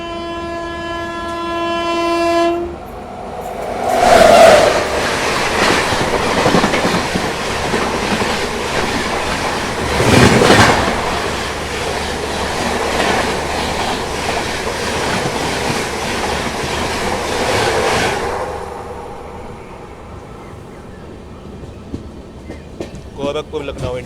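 Train 15031 Gorakhpur–Lucknow Intercity, hauled by a WP7 locomotive, sounds a long horn and then roars past close by, with a loud rhythmic clatter of wheels over rail joints that fades out near the end.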